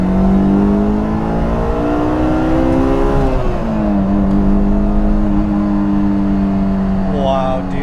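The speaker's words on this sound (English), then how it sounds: "I just want to rev the nuts out of this car." A 2003 Honda S2000 AP1 engine revving hard with a sustained, loud, buzzy engine note that shifts pitch slightly as the revs change, close to the microphone.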